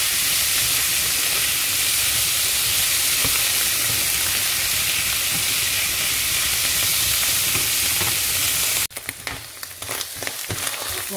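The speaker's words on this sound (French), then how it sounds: "je suis en train de remuer toujours. Je voulais que mes champignons puissent bien dorer" Mushrooms browning in a pan for a mushroom sauce give off a steady, close sizzling frying sound with stirring scrapes, which cuts off sharply near the end, leaving quieter clatter.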